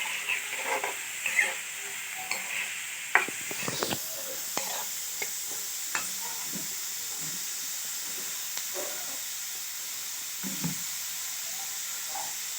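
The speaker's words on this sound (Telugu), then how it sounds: "వేసుకున్న ఉల్లిపాయలు ఒకసారి కలుపుకోవాలి." Sliced onions frying in a pan for a raw prawn and drumstick curry, with a steady soft sizzle and hiss under scattered scraping stirs and light clicks, close by and fairly quiet.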